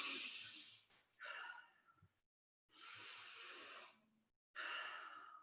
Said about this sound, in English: Sorry if you have to hear me breathe.